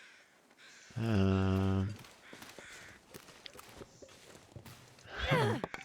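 A crow caws in a video game, one loud, drawn-out call near the start. Soft footsteps follow, and a man murmurs quietly.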